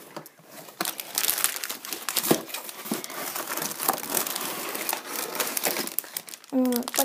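A plastic bag of Lego Ninjago parts crinkles and rustles continuously at close range, with sharp crackles throughout and a brief voice at the end.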